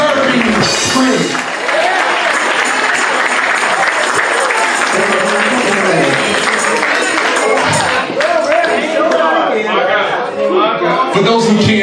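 A church congregation at a Sunday morning worship service claps steadily and loudly throughout, dense continuous applause mixed with cheering voices and chatter.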